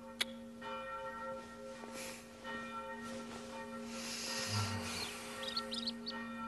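Distant church bells ring steadily, their sustained tones lingering over a faint hiss, with a few soft chirps near the end.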